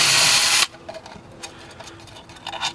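A power driver briefly whirs as it backs bolts out of a license plate flipper motor assembly, one loud burst of under a second, then the clip falls to quiet small handling clicks and rattles.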